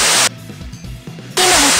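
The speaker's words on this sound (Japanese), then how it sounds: "こちらロイヤク、電波状態が悪い。" Loud bursts of harsh radio static crackle over a transmission in the 2016 mecha game Assault Suit Leynos, cutting out into a short quieter gap between two noisy stretches.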